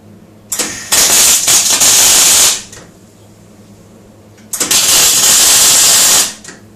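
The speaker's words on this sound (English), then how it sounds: "let's go welding" Welding on a BMW electric-vehicle conversion, heard as two loud, sustained bursts of harsh crackling hiss, each lasting about two seconds and separated by a quiet pause, with no talking.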